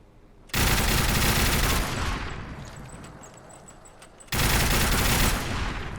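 Rapid, dense volleys from a Peppermill crank gun in Fallout 4, two loud sustained bursts of gunfire separated by a fading rattling tail, with no voices.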